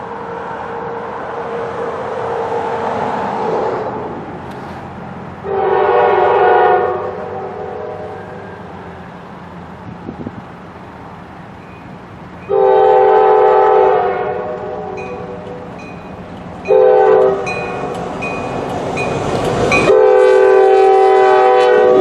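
A train with two engines rumbles past in winter in Chillicothe, Ohio, with repeated loud horn blasts, several long chords separated by quieter stretches of rolling rail noise.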